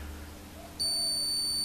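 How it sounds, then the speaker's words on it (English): A Hall effect timing sensor's buzzer, on a Morris car conversion, switches on suddenly partway through with a steady, high-pitched electronic buzz and holds without a break until the end, over a low background hum. "you can hear the buzzer on the sensor that picks up when the magnet is under the Hall Effect sensor"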